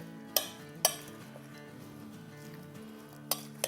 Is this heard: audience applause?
no